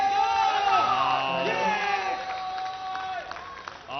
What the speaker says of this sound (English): the Indian fans cheering him on